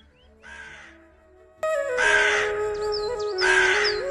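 A crow caws loudly in two harsh bursts, close and clear, after a fainter earlier call, with a sustained musical tone running underneath.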